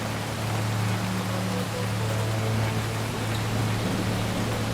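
Steady rain falls in a dense, even hiss with a low constant hum beneath it, unbroken and calm throughout, like soft rainfall for sleeping.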